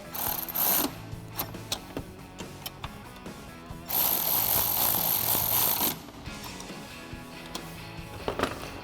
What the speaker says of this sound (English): take my 1/4" drive electric ratchet with my 10mm, snug the bottom ones up